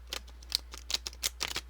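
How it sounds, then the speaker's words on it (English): Tarot cards being shuffled by hand, a series of soft, quick riffling flicks and taps in close, irregular bursts, quiet and alone with no talk. "I'm going to shuffle these cards."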